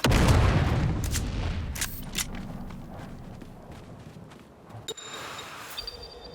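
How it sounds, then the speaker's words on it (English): Grenade blasts and gunfire in the video game Dune Awakening, with a heavy rumbling boom up front fading into scattered sharp reports and clatter, loud and close. "After a quick reload, it's back into the battle, with our friend coming from above and throwing out one more grenade"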